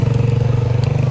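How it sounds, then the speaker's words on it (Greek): A motorbike engine drones close by with a steady pulsing rumble, loud and alone for about a second as it passes. "κάτσε να περάσει το μηχανάκι"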